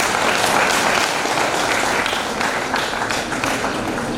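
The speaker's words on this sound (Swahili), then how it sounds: "Pigeni makofi kwao." An audience at a secondary school Form Six graduation ceremony claps steadily, a dense sustained burst of applause filling the whole clip at full volume.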